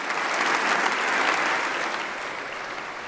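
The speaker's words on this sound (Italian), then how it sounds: "Un grande applauso." An audience at Palazzo Chigi in Rome applauds the Italian national football team and Matteo Berrettini, a broad, even roar of many clapping hands that holds steady and tapers gently.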